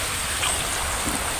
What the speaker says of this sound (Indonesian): Tiba-tiba hujan deras guys